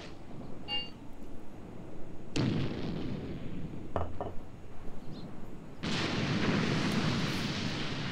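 Mortar fire in the war game Graviteam Tactics, with deep booming blasts and rumbling impacts arriving at irregular intervals, loud and heavy against a constant background of battlefield noise.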